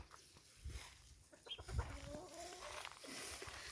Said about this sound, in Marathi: सगळ्या कोंबड्या सुटलेल्या असतात